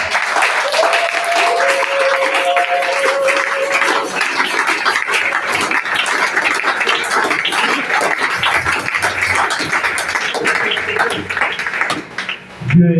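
A church congregation applauds and cheers in praise of the Lord, with sustained loud clapping and voices crying out throughout, fading briefly near the end.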